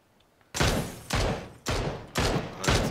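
Gunfire in the battle royale game PUBG: five loud, evenly spaced gunshots about half a second apart, each with a sharp attack and a short decaying tail, following near silence.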